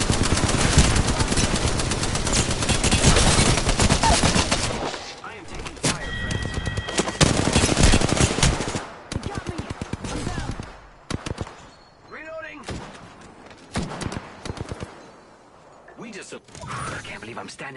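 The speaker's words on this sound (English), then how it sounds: "The enemies are shooting at me." Loud in-game gunfire rattles in sustained bursts during a video game shootout, then breaks into shorter scattered shots and mechanical clicks, with a voice speaking at times.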